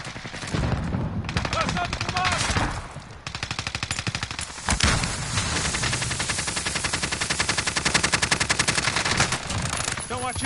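Rapid automatic gunfire in the video game Call of Duty Warzone, loud dense bursts and sustained rattling volleys that run almost without pause, with a player's voice talking over parts of the shooting.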